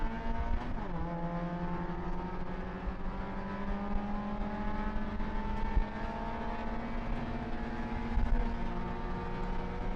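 Race cars running side by side and clawing for grip on throttle, their engines a loud, sustained high-revving drone that drops in pitch early on, then holds steady with small clicks and bumps.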